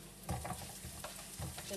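Onions sizzle and fry in a pan for carbonara, with a steady sizzle broken by several scraping stirs in a loose rhythm, close and moderately loud with no talking.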